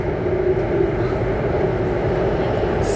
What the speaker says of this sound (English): Sorry for the loud train noise because I'm in the underground train right now.